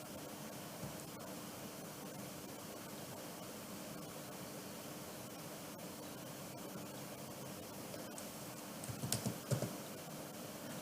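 Faint clicking of keys on a computer keyboard runs beneath a steady broadband hiss, with a brief louder flurry of keystrokes near the end.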